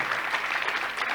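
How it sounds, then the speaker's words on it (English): Steady, dense applause from a conference audience after a panel session on inclusive development research in Africa, loud and continuous through the whole moment with no pauses. "So can we have a big round of applause?"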